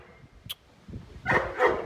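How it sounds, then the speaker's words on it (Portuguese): Several pit bull dogs barking and yelping in a noisy burst, the loudest cluster of barks coming near the end over a rough, busy background. "Cachorrada muito chata, velho. Quando começa a gravar, eles começam a fazer fuzuê, velho."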